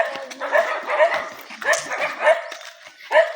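A dog on a rural farm plot gives a string of short, sharp yips and barks in an uneven rhythm, fairly close, with people talking around it.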